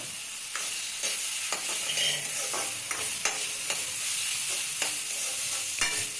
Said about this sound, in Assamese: আলুখিনি দি অলপ লৰাই দিছো